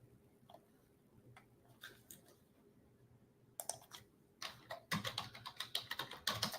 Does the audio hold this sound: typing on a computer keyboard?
yes